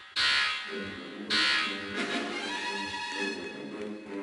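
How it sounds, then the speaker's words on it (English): A harsh electronic alarm in a Roblox sinking ship game buzzes twice in short blasts, then a droning tone lingers beneath a low murmur of background sound. "Go in, the alarm starts."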